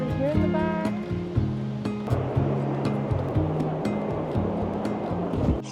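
Ocean surf washes steadily onto a crowded beach in Charleston, South Carolina, a broad continuous roar that fills the background, with some brief tonal sounds layered over the opening seconds.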